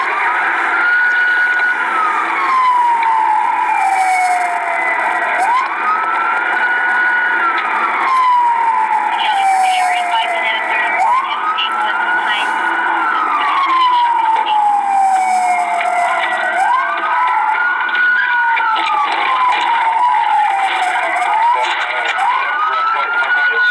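Several police sirens wail loudly and continuously in repeating rising and falling sweeps, overlapping one another during a police shooting.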